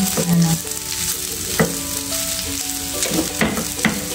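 Chili garlic fried rice being stirred in a hot pan, with steady close sizzling and frying broken by sharp scraping clatters of the utensil against the pan.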